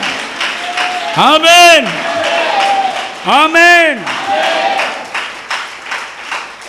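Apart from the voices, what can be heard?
congregation clapping hands in church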